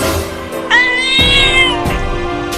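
A cartoon cat lets out a drawn-out, whining meow, loud and close, with a rising and falling pitch and a brief thud before it, heard alone without speech.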